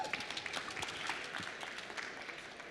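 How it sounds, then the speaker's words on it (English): An audience at a startup pitch final in London gives a round of applause, with fairly faint, continuous clapping from a crowd heard at a distance in a large hall. "Round of applause"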